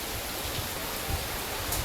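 Heavy rain pours down over flooded farm fields, a steady, dense hiss with low rumbling beneath that continues unbroken and fairly loud throughout.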